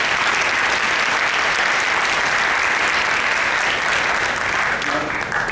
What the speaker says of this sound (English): And please give them a round of applause to everybody.